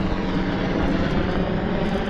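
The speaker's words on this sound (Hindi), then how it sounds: "यहाँ पे देखो हेलीकॉप्टर राइड होता रहता है" A helicopter flies over Siachen Glacier with a loud, steady, broadband engine and rotor roar that stays constant throughout.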